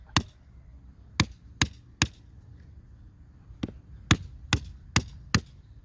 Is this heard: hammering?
yes